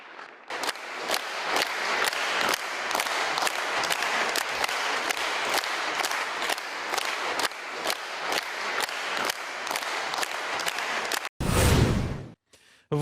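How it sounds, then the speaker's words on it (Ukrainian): Border guards give a standing ovation, sustained rhythmic clapping filling the room loudly and evenly for about eleven seconds before it cuts off abruptly into a brief, muffled burst. "Прикордонники стоячи аплодували доньці героя"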